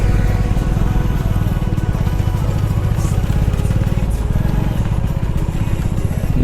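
A tractor engine chugs at a stone mine, a steady, close, rattling diesel putter with rapid regular firing pulses that keeps a constant level throughout.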